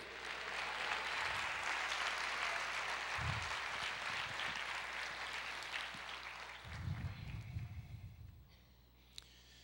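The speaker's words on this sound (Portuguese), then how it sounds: "Aplauda o Senhor" A church congregation claps together, a soft, even patter heard from a distance in a large room, with a few low thumps and a brief murmur of voices before it fades.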